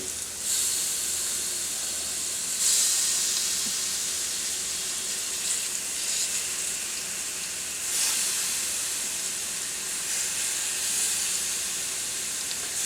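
Blackened shrimp sizzling in a hot pan as they are laid out one by one, a steady loud hiss with brief surges as each piece goes in, no talking.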